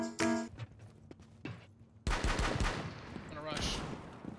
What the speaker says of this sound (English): All these gunshots, bro. All this gunfire.